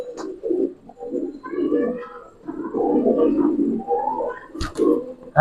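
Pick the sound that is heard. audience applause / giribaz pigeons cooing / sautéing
giribaz pigeons cooing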